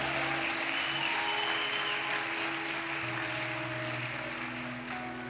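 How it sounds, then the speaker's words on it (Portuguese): A church congregation applauds steadily, a broad wash of clapping heard at a distance with a low hum underneath and no clear voices. "Vamos aplaudir os irmãos da multimídia."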